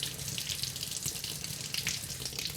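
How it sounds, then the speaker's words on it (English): Tap water runs steadily from a faucet as a tomato is washed under it, a close, continuous splashing hiss with no talk. "So we're just going to wash the outside of the tomato off."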